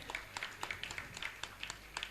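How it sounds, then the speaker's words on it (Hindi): Audience clapping rings out to honour guests at a Jain religious discourse gathering: quiet, distant and steady rhythmic claps repeating several times a second with no talk over them. "जोरदार ताली बजाकर इनका सम्मान करें।"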